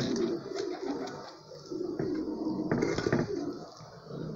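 Bronze pigeons coo in low, soft murmurs, several birds close by, with a light clatter in the background.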